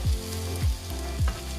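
A folded green herb omelette, already cut into pieces, fries on its second side in a pan, giving a soft steady sizzle with a low thump recurring about every half second.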